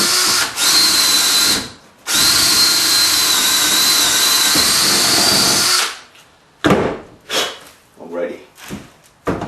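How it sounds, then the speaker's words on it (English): A power jigsaw cutting out the middle of a book for a hollow book safe, a loud, close, high-pitched whine running in long bursts, then stopping and restarting in short spurts. "So I can get down there in the middle of this cutout and start cutting."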